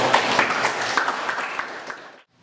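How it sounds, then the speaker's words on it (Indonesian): Classroom applause after a student presentation in an Indonesian history lesson, a dense patter of many hands clapping steadily, then stopping abruptly near the end. "Oke, tepuk tangan."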